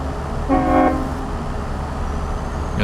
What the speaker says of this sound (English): Got the train horn in that.